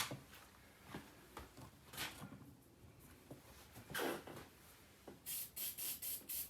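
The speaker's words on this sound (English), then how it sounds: "I'm over here spraying the glue onto this into a box" Short bursts of spray glue from an aerosol can, sprayed into a box, a quick rhythmic series of hisses near the end after some quiet handling noises.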